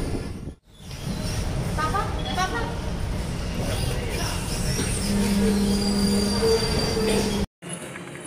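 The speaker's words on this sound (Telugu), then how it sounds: "సో ట్రైన్ బేగంపేట్ స్టేషన్ చేరుకుంది." A sleeper class train pulling into Begumpet station, wheels squealing in long high-pitched metallic whines over the rumble and clatter of the carriages, close and loud, with a brief cutout near the start and near the end.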